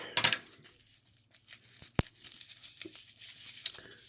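A trading card package wrapped in tape and bubble wrap is torn open close by, with a sharp burst of ripping, then scattered crinkles, crackles and small tearing snaps.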